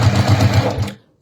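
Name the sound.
sewing machine stitching clear vinyl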